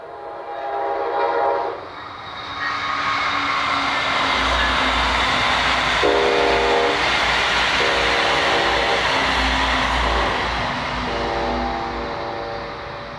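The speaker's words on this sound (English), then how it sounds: "Next is the train wrapped for NYU Langone Health, also known as Bright Purple," A Brightline passenger train passes southbound, a loud continuous rumble of rail cars sounding several long horn blasts in succession.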